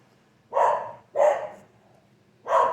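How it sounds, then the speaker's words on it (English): Dogs bark in three separate loud, close barks spaced about a second apart, with quiet gaps between and no talk. "The dogs will probably start barking again anyway."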